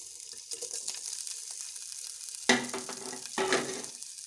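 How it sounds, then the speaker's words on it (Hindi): Mushrooms and spinach being stir-fried in a pan: soft sizzling with light clatters of stirring, then two sharper bursts of scraping and hissing near the end. "सबसे पहले हम मशरूम और पालक को स्टिर फ्राई कर लेंगे 2 मिनट के लिए।"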